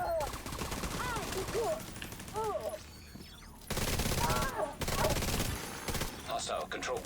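Turret gunfire in a video game, loud fusillade bursts that start and stop, with a voice talking over parts of it.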